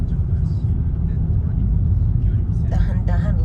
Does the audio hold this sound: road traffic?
yes